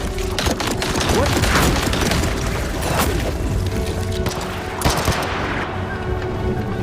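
Sustained gunfire in the VR game Chronostrike, a dense fusillade of rapid shots with booming impacts rolling on without pause, loud and close throughout.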